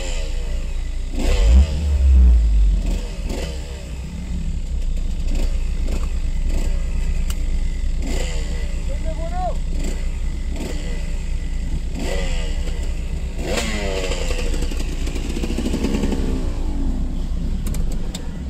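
Off-road motorcycle engine at an off-road centre, revving in repeated bursts and dropping off throttle, a steady loud drone with rising and falling pitch throughout.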